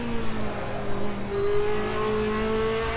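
A racing car engine in Assetto Corsa drones steadily on a wet track, a loud continuous tone that slowly rises in pitch as the car accelerates, with no talking.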